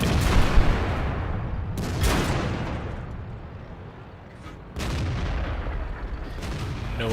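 Tank cannon shots in a World of Tanks battle with a Type 61, aimed at an IS-8: several loud booming reports spaced seconds apart, each with a rumbling decay over constant engine drone.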